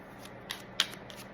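Tarot cards handled and shuffled at close range, a few quick soft riffles and flicks with brief crisp snaps, alone with no talk.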